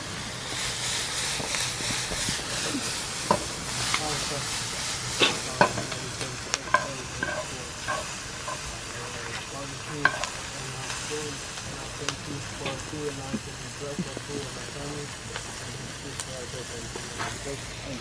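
Bacon frying in a pan in a home kitchen, a continuous hiss and crackle with frequent spatula scrapes and pops, voices talking faintly over it.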